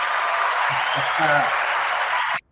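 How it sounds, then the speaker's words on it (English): Applause from a virtual audience welcoming a podcast guest washes in as a broad, even clapping sound, loud and steady, over faint voices before it cuts off abruptly. "thanks for the applause"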